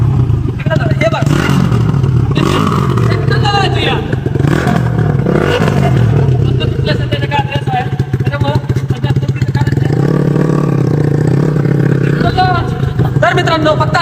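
Bajaj NS200 motorcycle engine with a broken throttle wire, running loud and close with steady rough firing and uneven revving throughout, while people talk over it.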